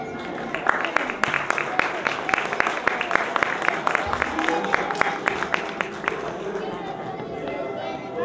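Sustained crowd applause at a kindergarten graduation diploma ceremony at a school, steady rapid clapping from many hands with chatter and voices mixed in throughout.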